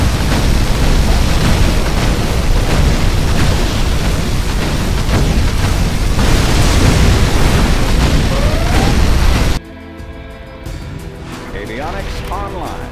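Particle cannon superweapon firing in the Command & Conquer Generals real-time strategy game, a loud continuous roaring blast of noise lasting several seconds, then cutting abruptly to quieter game sounds.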